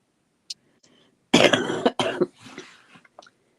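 A person coughs hard in a rough burst of several harsh, close coughs, with a few small throat sounds before and after, loud and alone with no talking.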